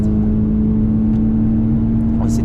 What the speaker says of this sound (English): We've got Radical behind us. Obviously a hell of a lot quicker than I am. See him flying past.